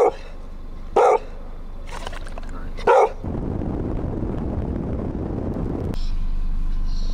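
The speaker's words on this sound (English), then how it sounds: "Alex, the dogs are coming" Dogs in a Louisiana swamp, with a few loud, sharp barks spaced about a second apart, followed by rustling movement and steady outdoor background noise.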